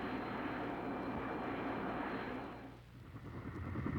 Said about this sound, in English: Phantom jets absorb fuel at a startling rate and often require fueling in flight by Marine C-130 flying gas stations